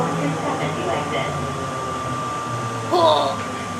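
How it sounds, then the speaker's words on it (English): Atlanta airport Plane Train automated people mover slowing to a stop, a steady whirring drone with a sustained tonal whine and a brief squeal near the end, voices faintly present. "This train is stopping."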